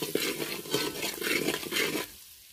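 Kolhapuri red chilli powder and turmeric stirred into hot oil in a pot, quiet rhythmic scraping and clinking of a spoon over a gentle sizzle, fading to near silence at the end.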